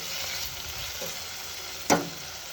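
Tomatoes frying in a pan for sooji upma give a steady close sizzle throughout, with a soft stir around the first second and a brief louder scrape or clatter near the end, no talking.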